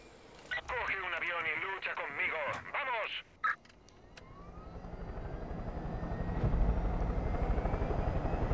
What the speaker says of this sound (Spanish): Aquí donde estoy yo hay un helicóptero, vente.